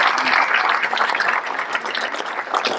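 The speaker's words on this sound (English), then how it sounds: "Let's give them a round of applause for that wonderful" Audience applause for the food service staff at a high school induction ceremony, a dense, steady wash of many hands clapping that stays loud for the whole stretch.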